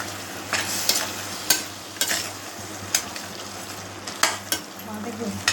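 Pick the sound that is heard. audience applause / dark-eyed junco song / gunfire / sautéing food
sautéing food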